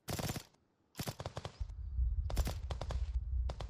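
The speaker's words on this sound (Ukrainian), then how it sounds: "Стріляють по дрону." Rapid bursts of video game gunfire aimed at a drone crackle in several volleys, separated by brief pauses, with a low rumbling drone hum underneath the later shots.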